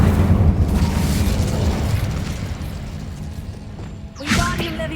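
Incendio fire spell in Hogwarts Legacy gives a sustained roaring, rumbling burst of flame that slowly fades, then a second sharp whooshing flare near the end.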